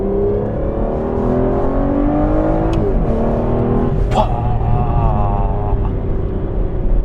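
An Aston Martin Vanquish V12 engine revs loud and close, its deep roar climbing and falling in pitch through several sweeps over a steady rumble.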